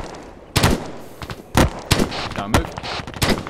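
Gunfire in the military shooter ArmA 3 comes as four or five sharp, loud shots about a second apart, with team members talking over and between the reports.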